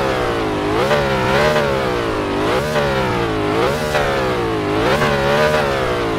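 A Ford GT350R in a Roblox driving game revs loudly and continuously, its engine note swelling and dipping in repeated throttle blips with a buzzy, mid-pitched tone and no talk over it.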